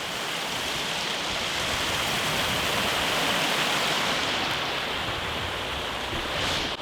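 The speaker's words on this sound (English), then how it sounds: "I am by this nice river that I would like to show you coming down off the mountain" A mountain river rushes downhill in a steady, dense roar of flowing water that fills the scene evenly from start to finish, loud and unbroken, with no voices.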